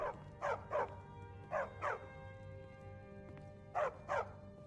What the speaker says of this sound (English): While the dog yaps its head off in the background